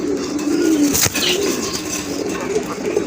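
Fancy pigeons, including large Raj Golla and Gorra breeds, coo softly at close range, with one brief burst of wing fluttering midway and faint background noise.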